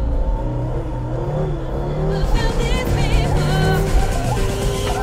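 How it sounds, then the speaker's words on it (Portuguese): A Toyota AE86 engine revs and strains with a rough, grinding whine from a worn differential, steady and fairly loud throughout. "O AE86 está um bocadinho cansado de diferencial, é o barulho que vocês ouvem ali"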